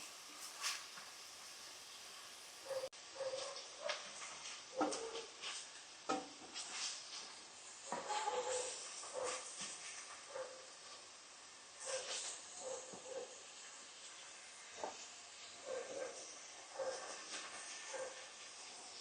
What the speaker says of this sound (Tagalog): Kailangan po ginigisa natin ito para mawala yung lansa ng liver.